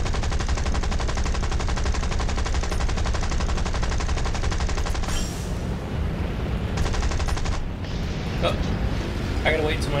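War Thunder aircraft machine guns rattle in loud, continuous rapid bursts, dropping briefly midway before the firing resumes, with a voice talking over it.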